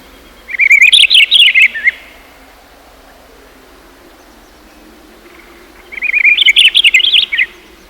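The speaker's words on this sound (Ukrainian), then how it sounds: "Так, це співає пташка." Two bursts of bright, high bird song, each lasting over a second, separated by a few seconds of quiet background hiss.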